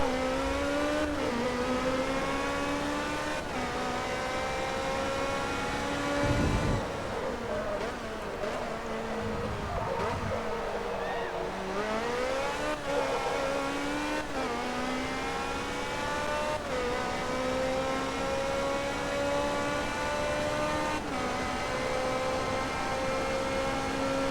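A Ferrari race car in Forza Motorsport 2 laps Suzuka, its engine a continuous loud whine that climbs through gears with repeated upshifts and dips under braking in the corners, and no voices.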